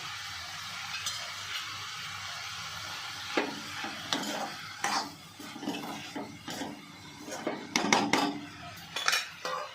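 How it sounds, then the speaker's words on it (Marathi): Metal clinks and clatters of cookware ring out in a kitchen as a lid goes onto a pan of sprouted moth bean curry, several sharp knocks and scrapes over a faint sizzle. "आता वरून झाकण ठेवत आहे 5 मिनटं वाफण्यासाठी."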